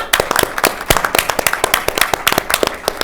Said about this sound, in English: Please join me in a round of final applause for the contributions of our dedicated inventors